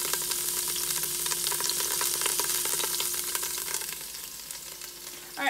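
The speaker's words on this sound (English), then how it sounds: "do about 2 minutes on each side just to get it nice and browned before we add in the rest of the bones" Beef bones browning in a pan for bone broth keep up a continuous close frying sizzle and crackle with occasional light ticks, steady throughout and easing slightly near the end.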